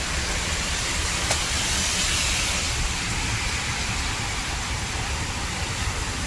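Heavy rain pours steadily during a windy storm in Bangkok, a loud, unbroken hiss of falling water close by.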